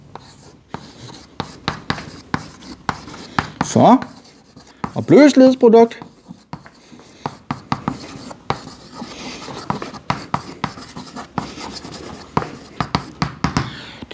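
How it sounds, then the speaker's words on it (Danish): Pen or chalk writing by hand as a chemical expression is noted down gives scratchy, irregular strokes and taps throughout, with someone speaking Danish briefly over them. "Lad mig skrive ned."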